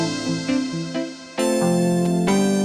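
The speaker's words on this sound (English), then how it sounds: "For this, I adjusted the lithic piano preset a bit." Synth piano chords from a tweaked lithic piano preset play alone, sustained harmonic tones changing about every half second, then swelling louder into fuller chords in the second half.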